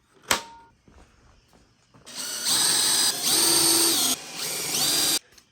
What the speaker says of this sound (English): now we're going to drill the wood from the other side